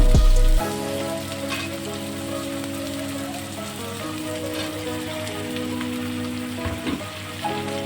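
Ridge gourd frying with fish in a pan gives a steady, close sizzle with fine crackle all the way through, over a low continuous hum, opening with a brief louder burst as the pieces go in.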